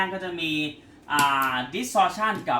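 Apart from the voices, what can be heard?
No distinct noise like a dog, phone or traffic.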